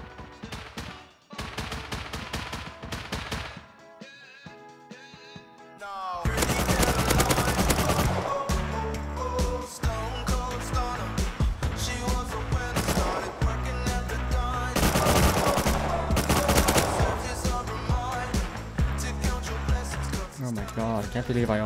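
Close gunfire from a raid in the survival game Rust, dense rapid bursts and blasts running loud and continuous after a quieter opening, layered over game music and effects.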